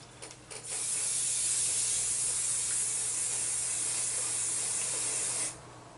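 Frisk pastel fixative hisses from an aerosol can onto soft pastel work at a desk, one long continuous spray lasting about five seconds after a brief start, close and steady before cutting off.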